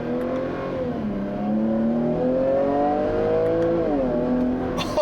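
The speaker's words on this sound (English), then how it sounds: "Oh my God, that sounds fantastic. And this supercharged V6 just has a boatload of torque." The supercharged V6 of a 2017 Jaguar F-Pace S revs loudly and close from inside the cabin, its pitch climbing and dropping through paddle-shifted gears in a smooth, throaty surge, with a sharp blip at the end.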